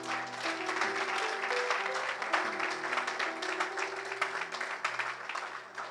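A church congregation applauds steadily to acclaim the Lord, sustained clapping continuing throughout over a soft, held organ or keyboard chord underneath.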